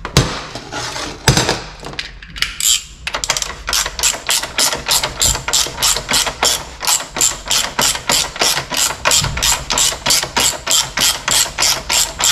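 Ratcheting clicks from a bar turning a fitting on a Honda CBR900RR swing arm, first a few irregular knocks and clunks, then a long even run of sharp close clicks in steady rhythm, loud with no talk.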